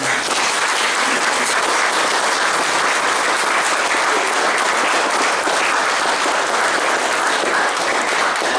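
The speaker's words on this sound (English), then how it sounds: "So could we give them a round of applause?" Round of applause for young artists at an exhibition opening: a dense, loud crowd clapping continuously at a steady level throughout, with no voices over it.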